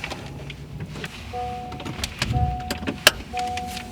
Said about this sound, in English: You'll want to turn on your vehicle.